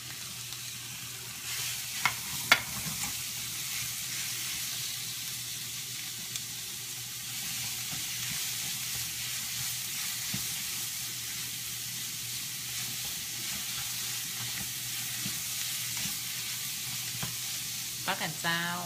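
Pork sizzles steadily in a hot pan with curry paste, a constant frying hiss broken by occasional scrapes and clinks of stirring, close and fairly loud throughout with no talk.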